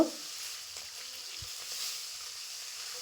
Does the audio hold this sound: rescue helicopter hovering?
no